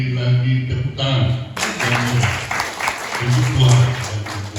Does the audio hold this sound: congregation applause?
yes